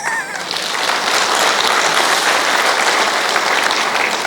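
Audience at an indoor session applauding, the clapping swelling within the first half second into a loud, dense, sustained roar that continues unbroken to the end.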